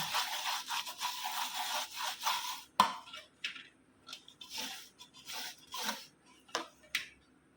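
A copper plate is scrubbed with brick powder in a series of rasping strokes, continuous at first and then broken into short separate rubs, close and moderately loud.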